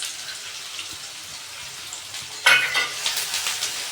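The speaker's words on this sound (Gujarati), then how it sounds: "અને ડુંગળીને હલાવતા રહીશું જ્યાં સુધી બદામી કલરની ના થઈ જાય ત્યાં સુધી હલાવતા રહીશું" Onions sizzle and fry in a hot pan for a Rajasthani sev tamatar curry, a steady crackle that swells with bursts of scraping stir strokes in the second half, close and without speech.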